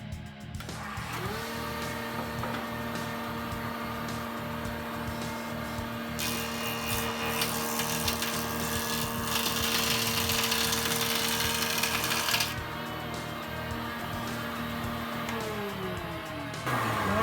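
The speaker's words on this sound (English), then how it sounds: "I'm going to run this board I just cut for the stripes over the joiner here real quick" A jointer flattens the edge of a wooden board, first spinning up to a steady whine, then cutting with a louder rushing buzz for several seconds as the board passes through, then winding down, close and continuous.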